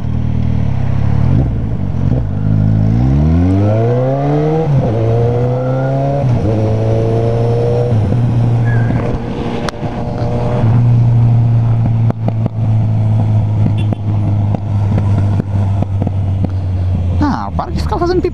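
A car revving hard in a parking lot, engine rising and falling in strong sweeps, then holding a steady loud drone with crackling exhaust pops; someone talks over it.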